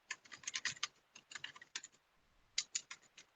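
Keys tapped on a computer keyboard while entering text into a spreadsheet cell, quiet close clicks in quick uneven bursts with a short pause midway, no voices.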